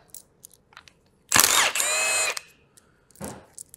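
Power tool whirring in short bursts while removing bolts from the end plate of a high voltage battery, with one long run of about a second plus small clicks and taps, close and alone without talk.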